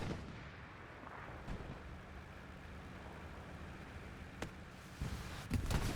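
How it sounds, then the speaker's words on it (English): Distant gunfire and rocket blasts sound across a Hell Let Loose battle on the Elsenborn Ridge map, with scattered sharp cracks and booms over a low, rumbling ambient background. "One rocket from 79. It was Jarvis with the miss there"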